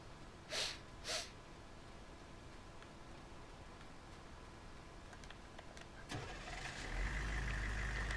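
A truck engine starting in Farming Simulator 19: two brief puffs, a quiet pause, then the motor catches and settles into a steady, building hum, with no talk.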